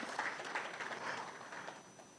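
Audience applause at a presentation event, steady and moderately loud throughout, a dense wash of hand claps from a roomful of people.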